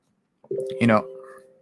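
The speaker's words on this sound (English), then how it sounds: "goodness gracious, my phone's going off" A phone goes off during a talk on chakras, with a steady electronic tone heard up close and a voice speaking over it.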